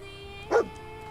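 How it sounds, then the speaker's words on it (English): A single short bark from Dogmeat, the dog in the Fallout 4 video game, sharp and fairly close against a steady low hum of background game ambience. "Oh, yeah. It's a dog."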